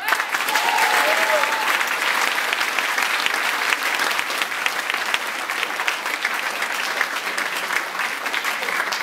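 Sustained, loud applause fills a UMP political rally in Cherisy in 2012, a crowd clapping steadily for a local party organiser, with no break for the whole stretch.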